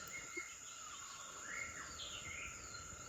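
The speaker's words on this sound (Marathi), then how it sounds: "पक्ष्यांचा आवाज" Birds call faintly in a forest at dusk over a steady insect drone, with thin whistled phrases drifting in at a distance in a quiet setting.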